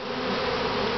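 Dense, steady buzzing of many honey bees up close at a top bar hive during a honey harvest, a continuous loud drone with no pauses or voices.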